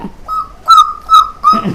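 A boy whistles an imitation of a hornbill call, repeating three or four rising notes with short breaks between them.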